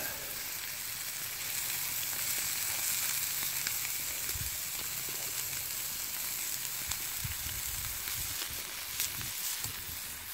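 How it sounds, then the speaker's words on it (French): Scallops and their coral sear briefly in a pan at an outdoor woodland camp, giving a constant close crackling sizzle with occasional small pops. "Un Saint-Jacques, il faut vraiment pas les cuire longtemps. Un petit peu de chaque côté."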